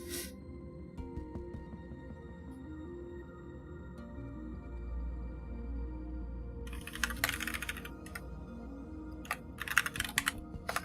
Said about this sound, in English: You can hear the keyboard ASMR